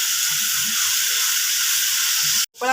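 Food sautés in ghee over a high flame, a loud, steady sizzling hiss up close that cuts off abruptly near the end.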